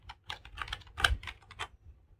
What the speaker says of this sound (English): the laptop, when you type it, there's not much of a noise